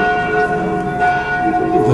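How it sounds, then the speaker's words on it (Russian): A church bell at the Mini-Israel park at night rings loud and close with a sustained, resonant metallic tone that holds steadily throughout the short moment. "Что там, колокол висит?"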